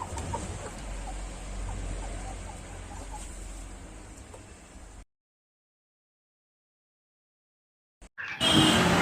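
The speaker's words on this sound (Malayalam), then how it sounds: "ഇപ്പം ഇക്കാണുന്ന കൂട്ടിക്കിടക്കുന്നത് പല രീതിയിലുള്ള കോഴികളാണ്" Chickens of several sizes cluck together in a coop, a busy layered chatter for about five seconds before everything goes silent, followed by a short loud burst near the end.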